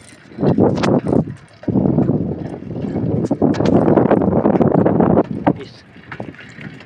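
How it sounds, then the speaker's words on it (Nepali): Strong wind buffeting a microphone in loud gusts while cycling outdoors, with brief pauses and a few clicks. "हावा नि आइरहेको छ साइकलमा हिँड्दै हिँड्दै।"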